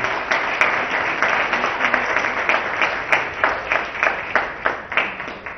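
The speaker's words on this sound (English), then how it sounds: "Can we have a round of applause, please?" A room full of people at an Indian Poker League announcement applauding steadily, dense overlapping claps that settle into a rhythmic beat toward the end.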